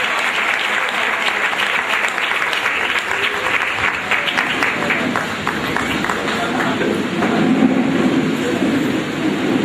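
A church congregation clapping together during a prayer gathering, a dense, continuous wash of many hands applauding at a steady loud level for nearly ten seconds, with some voices blended into the clapping.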